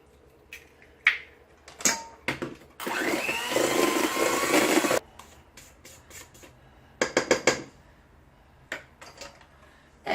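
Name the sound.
electric mixer beating eggs into lemon bundt cake batter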